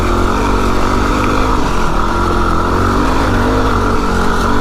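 A street-legal Yamaha WR250R motorcycle being ridden along small paths produces a loud, close, steady engine drone with a buzzy, even tone and no breaks.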